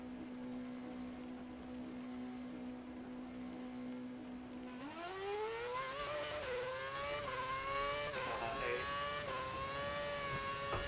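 A Williams Formula 1 car in F1 2011 idles with a steady pit-limiter hum, then accelerates out of the pit lane, its engine note climbing sharply through the gears and staying loud and close, with tyre and track noise and no voices.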